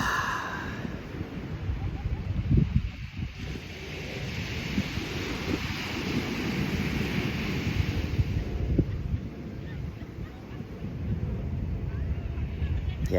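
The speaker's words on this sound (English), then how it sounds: "getting my feet in the sand, feeling the breeze, seeing the ocean, hearing the waves" Ocean waves wash onto a sandy beach in a constant broad roar, with gusty breeze buffeting the microphone throughout.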